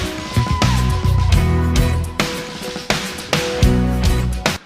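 A full drum-kit mix with added snare tracks plays back alone, punchy kick thumps and bright snare cracks in a steady groove with ringing cymbals, loud and close.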